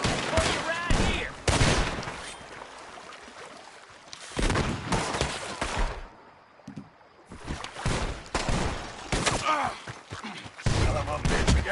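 Bursts of gunfire ring out in Red Dead Redemption 2, loud volleys of rapid shots broken by a quieter lull and then resuming in heavy, repeated salvos.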